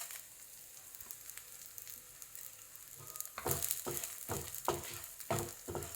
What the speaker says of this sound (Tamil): ஒரு 2 நிமிஷம் இது ஃப்ரை ஆகட்டும்